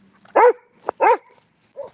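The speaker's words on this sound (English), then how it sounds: "he's talking to another dog." A dog barks at another dog, two close, clear barks followed by a softer yip, with a brief clack between them.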